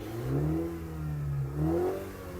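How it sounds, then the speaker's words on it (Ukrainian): A Mini Clubman car engine revs twice, rising and falling in pitch, heard close and loud over a steady idle with no talking. "ти бачив, коли я газую"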